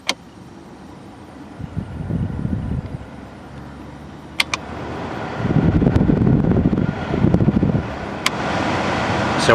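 Blower fan of a 2000 Toyota Camry running at high speed, a steady whooshing airflow rumble that swells louder in the second half, with faint clicks and a few sharp ticks over it.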